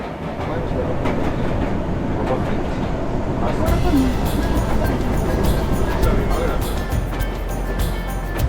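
A mountain rack train near Garmisch-Partenkirchen in the Bavarian Alps rumbles steadily throughout, a continuous close rolling drone with a brief mechanical squeal, with no talk over it.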